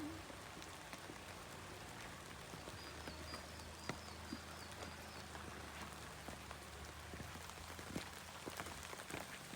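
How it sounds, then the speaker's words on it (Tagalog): Steady rain pattering on a surface, a dense continuous patter with occasional louder drops, no voices. "Umuulan."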